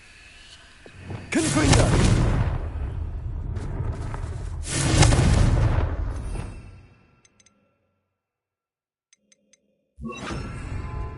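Bombarda explosive spell cast in a Hogwarts-themed wizarding game, two heavy booming blasts with long rumbling tails, a quiet pause with faint dings, then another burst of noise.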